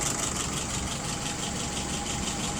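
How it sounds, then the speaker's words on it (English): An engine idles steadily at about 660 rpm at close range, a constant low rumble and hum with no speech. "I've got her idling right now at about 660."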